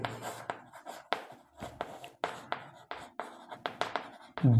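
Chalk or marker strokes on a board during a Class 5 geometry lesson, a quick irregular series of short scratchy scrapes and taps, close and fairly quiet.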